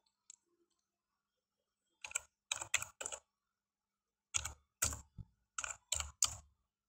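Close computer keyboard typing as text is entered in AutoCAD, arriving in several short bursts of crisp clicks separated by brief pauses.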